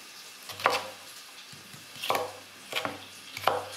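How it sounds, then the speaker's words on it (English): Onions being sliced with a knife on a cutting board in a home kitchen, heard as a few separate cutting strokes, close and fairly quiet, with no talking. "so cut the onions like this"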